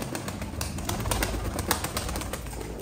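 Soft, low pigeon coos repeat steadily against a constant background hum, faint and close, with no talking.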